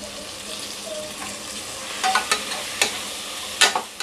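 A handful of mint leaves goes into frying chicken biryani and is stirred, with a steady sizzle beneath several sharp scraping and clinking stirs of a spoon against the pot.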